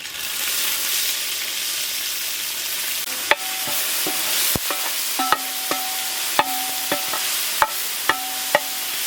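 Ground shallot paste frying in a pot for a Tamil goat head, trotter and intestine curry, a steady broadband sizzle broken by a series of sharp clicks from a spoon knocking the pot, with no voice.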